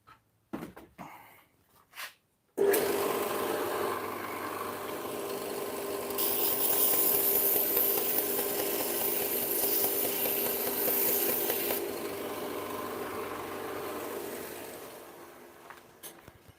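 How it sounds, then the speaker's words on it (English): A belt sander grinds the heel of a chef knife round, a steady loud abrasive hiss that runs continuously for well over ten seconds after a few brief knocks, then tapers off near the end. "I take it over to the sander and I just round it off so that's out of the way"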